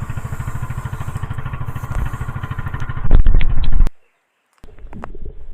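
An outrigger boat engine chugging loudly and close in a fast steady pulse during a trip to a spearfishing dive spot, briefly surging louder, then cutting out before resuming.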